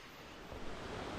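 Steady rushing river noise in the Vietnamese jungle near Son Doong cave, broadband and continuous, like a stream flowing nearby with no voices.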